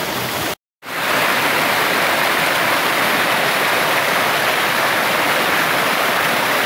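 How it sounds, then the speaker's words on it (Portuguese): A waterfall in a rural countryside setting roars with steady broadband rushing water, loud and close, after a brief silent gap at the start. "eu mostro pra vocês a cachoeira de cima pra baixo"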